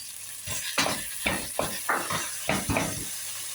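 Onions, potatoes and chickpeas sizzle in a pan for a meat tashreeb while a spoon stirs them in quick repeated scrapes over a steady close frying hiss.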